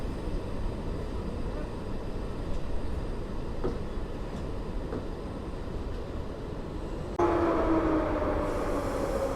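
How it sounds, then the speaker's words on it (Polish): A PKP EP07 electric locomotive couples onto the TLK Mierzeja passenger train at Warszawa Wschodnia station, heard as a steady low rumble with a few faint metallic knocks, then a louder rising hum near the end. "Sprzęganie siódemki ze składem TLK Mierzeja."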